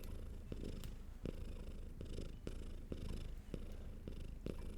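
A cat purrs contentedly while having its belly rubbed, a close, soft, rhythmic purr in steady repeating cycles, heard alone.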